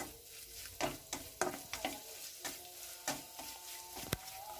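Turmeric powder being stirred in a frying pan with oil, heard as soft scraping strokes in a loose rhythm of about a dozen, close and fairly quiet over a faint sizzle.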